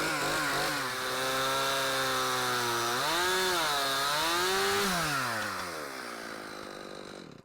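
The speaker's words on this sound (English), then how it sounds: "Let's fire up the chainsaw, shall we?" A chainsaw cuts into a white oak log, its engine holding a loud, steady snarl that dips and rises in pitch as the chain bites through the wood, then winds down toward idle at the end.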